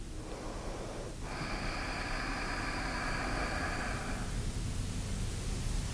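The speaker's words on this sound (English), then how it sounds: "just 2 more breaths" One deep, long yoga breath draws out for about three seconds as a soft airy rush, set against a constant low background hiss.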